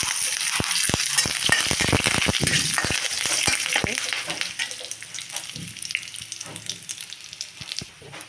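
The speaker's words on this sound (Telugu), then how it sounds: "తాలింపు వేగాక కరివేపాకు వేసి చక్కెరలో అవ్వాలి." Curry leaves hit hot oil in a tempering for a butter-fried brinjal dish, crackling loudly with a burst of sharp pops up front that settle into a steady, dense sizzle, with no talking.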